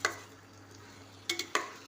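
Chicken pieces are stirred in a cooking pot, a few quick soft scrapes and light metallic clinks near the end over a quiet low hum.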